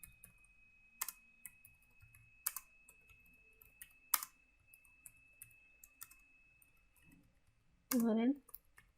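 Scattered clicks and taps of a computer keyboard come in short bursts and single strokes against near silence, with a brief voice near the end.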